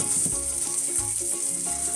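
An omelette frying in a pan gives off a steady, close hiss of sizzling oil, with faint rhythmic tones running quietly beneath it.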